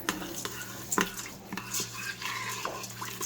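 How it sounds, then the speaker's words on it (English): Brown rice and water being stirred in a Fissler multi pot: close, sloshing scrapes and light metallic clinks of a utensil against the pot, continuous for a few seconds with no talking. "I am going to give it a stir."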